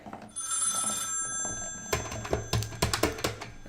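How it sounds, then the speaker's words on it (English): A telephone rings for an incoming call with a bright, warbling electronic tone, followed by a run of rapid, clattering ring pulses close to the listener. "Someone's calling and patching in."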